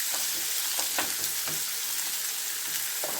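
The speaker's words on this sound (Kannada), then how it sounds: "ಈರುಳ್ಳಿ ಹಾಕ್ಕೊತಾ ಇದ್ದೀನಿ. ಇದನ್ನು ಚೆನ್ನಾಗಿ ಫ್ರೈ ಮಾಡ್ಕೋಬೇಕು." Sliced onions sizzle and fry in a pan for a paneer gravy, a constant close crackle broken by a few soft stirring scrapes, with no talking.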